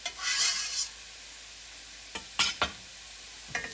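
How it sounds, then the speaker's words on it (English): Chopped onions sizzle in a pan for arrabbiata sauce: a brief bright sizzle at first, then a few quick scraping stirs of the spoon against the pan, close and with no voices. "I'll just stir that up."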